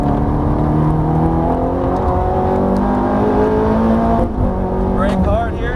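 A Ferrari F430 accelerates hard on a race track, its loud engine note climbing steadily in pitch through a continuous, close, unbroken roar.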